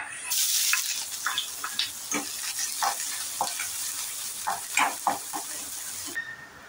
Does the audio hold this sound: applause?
no